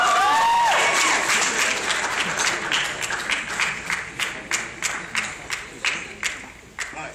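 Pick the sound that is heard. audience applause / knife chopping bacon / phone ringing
audience applause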